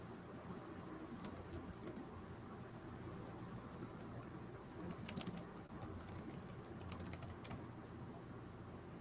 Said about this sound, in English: now what I'm typing in for you now, Art Zuck, is the actual search term